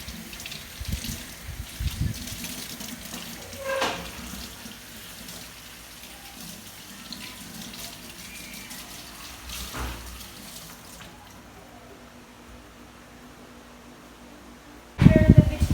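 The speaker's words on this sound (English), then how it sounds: "clean and wash the vegetables" Tap water runs steadily into a sink while vegetables are washed for cooking burgers, a soft continuous wash with a few brief clatters and a louder bump at the end.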